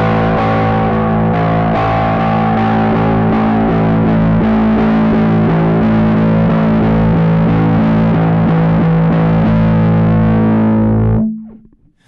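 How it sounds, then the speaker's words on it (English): Bass guitar played through an amplified rig, sustained thick notes with boomy, heavy low mids and a gritty edge, loud and steady before cutting off abruptly near the end. "you can hear right about here in the low mid areas where it really starts to get really boomy"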